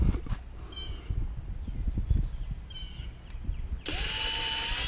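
Screw going into an electric reel mount, first low creaks, clicks and knocks of handling, then a cordless drill whirs loud and steady near the end.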